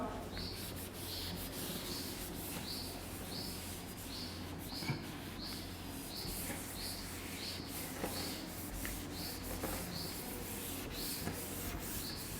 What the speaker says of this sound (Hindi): रब कर रहा हूं।